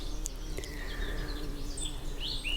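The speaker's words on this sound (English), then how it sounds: "Just taking a minute, listening to the birds." Birds chirp and call outdoors on a sunny day, scattered high tweets against a quiet steady background, fairly faint and with no talk.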